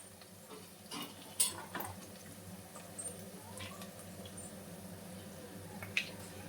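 Onions frying in a pan as ginger garlic paste goes in for a drumstick curry, with a steady low sizzle, a few soft stirring scrapes and light clinks of a utensil against the pan.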